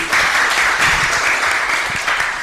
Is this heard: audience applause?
yes